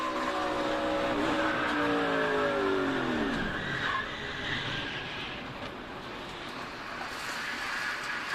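A race car slides for a long stretch during a crash at Talladega, its engine note falling in pitch under steady loud roar and tire noise before a duller rumble as it slows.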